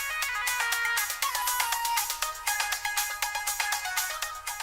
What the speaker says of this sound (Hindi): बेल बज रही है, देखो जाके कौन आया है।